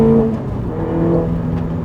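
A Mini GP2 road-legal race car launches with traction control on, its engine note droning and rising steadily under acceleration, close and continuous with no talking.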